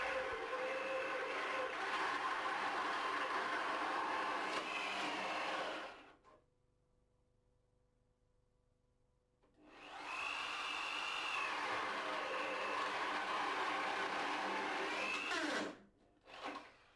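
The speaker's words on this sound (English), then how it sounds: "With a flat-bladed wood bit, cut 2 holes into the panel." A power drill with a flat-bladed spade bit bores two holes into a wooden panel in carpentry work, a loud steady whine for about six seconds, a quiet gap, then a second long run that stops abruptly.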